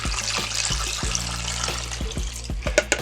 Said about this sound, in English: Six cups of water going in.